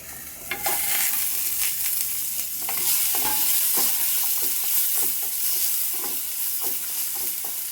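Tomatoes softening in a covered pan for a chutney, giving a steady close sizzle with faint crackles and small pops throughout, no voices.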